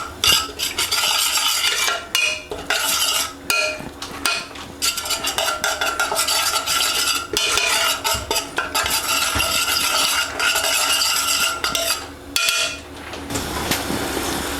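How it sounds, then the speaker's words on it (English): Mae Ploy yellow curry paste being stirred in a pot for a bulk Thai chicken yellow curry: a steady stream of scraping and clinking from a spoon against metal, continuous and close, with brief pauses. "all we're going to do is give it a little stirring around in there"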